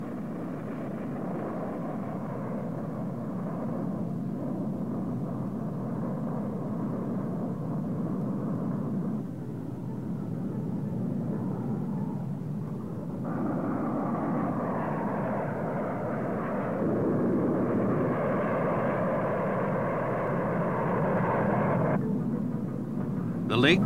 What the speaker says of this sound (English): This sequence shows a Convair F-102 Delta Dagger pilotless drone taking off as target.